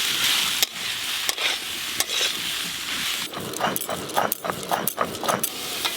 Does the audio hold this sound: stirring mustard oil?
yes